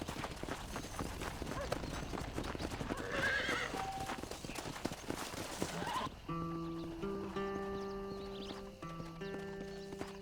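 A horse in the video game Red Dead Redemption trots with rapid, rhythmic clip-clopping hooves over ground, then gives a loud whinny, and game music fills the second half.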